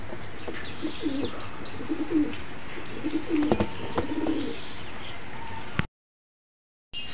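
Pigeons coo repeatedly in soft, throaty rolling calls at a busy pigeon market in Khulna, several birds close by over a dense background murmur, with occasional clicks and wing noises before the sound cuts out abruptly.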